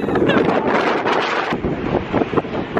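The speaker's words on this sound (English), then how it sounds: "It's like gale force winds" Strong gale-force wind roars and buffets a nearby microphone continuously, loud and gusty throughout, on a countryside walk in the Cotswolds.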